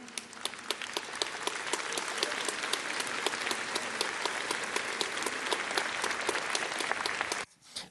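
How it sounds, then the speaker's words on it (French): A church congregation applauds during a homily, a dense, steady roar of many hands clapping that fills the space for several seconds before cutting off abruptly near the end. "il va demander justement aux fidèles d'arrêter d'applaudir"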